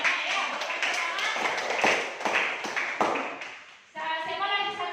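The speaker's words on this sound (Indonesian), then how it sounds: "Berikan tepuk tangan." Students in a classroom clap in a quick, uneven burst for several seconds during a science lesson on air pollution, with voices mixed in. A spoken voice takes over near the end.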